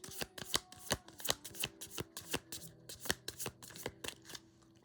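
A deck of tarot advice cards is shuffled by hand in a steady run of quick riffling and slapping strokes, close but soft, with no speech.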